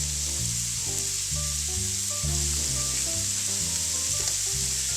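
Stuffed chicken sizzles steadily in a pan of butter and garlic, a close, continuous frying hiss with occasional knocks of stirring, no voices.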